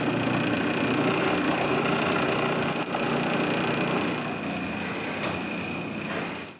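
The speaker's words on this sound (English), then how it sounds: "I drill them with the drill press." A drill press bores pilot holes through two pieces of wood taped together, a steady motor hum with a constant whine running nearly unbroken before it cuts off at the end.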